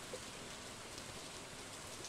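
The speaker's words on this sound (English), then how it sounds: "Rainy weird noise." Steady rain-like hiss from a Warframe farming game, a soft continuous patter with no breaks and no voices over it.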